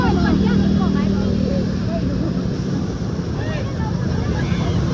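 A tractor drives through a flooded street in heavy rain in Surat. Its steady, loud rumble mixes with churning, splashing water and wind buffeting the microphone, continuous and close throughout.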